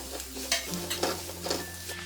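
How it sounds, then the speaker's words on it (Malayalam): Cooked prawns being stirred into spiced masala in coconut oil, a soft close sizzle with rhythmic scraping strokes of the spoon roughly every half second. "ഇനി നമ്മൾ വേവിച്ച് വെച്ചിരിക്കുന്ന ചെമ്മീനിലേക്കിട്ട് ഇളക്കി കൊടുക്കാം"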